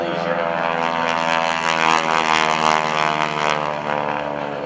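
Stearman biplane, a Bull Stearman flown at an airshow at Joint Base McGuire-Dix-Lakehurst in 2012, performing aerobatics: a loud, steady radial-engine propeller drone that swells slightly as it passes, with a faint public-address voice beneath.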